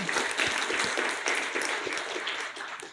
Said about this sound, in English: Please give applause to Pak Rian.